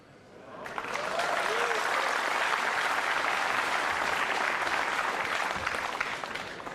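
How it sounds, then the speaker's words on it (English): A crowd at a 9-ball pool match bursts into sustained applause for a routine safety shot, clapping swelling quickly and holding steady before tapering off. "the crowd applauds a routine safety as if he's just scored the winning goal in the World Cup final"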